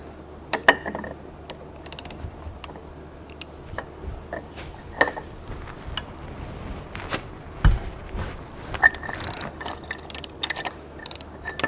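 A ratcheting hand tool loosening the wheel end nut on an Axletech 4000 axle, with irregular metallic clicks and ratchet pawl ticks and occasional clunks of the socket on the nut.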